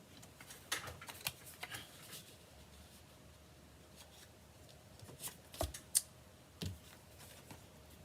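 Paper trimmer slicing paper for scrapbooking at a class table, soft scattered clicks, rustles and a few sharper cutting snaps, fairly close and quiet, with brief pauses between bursts.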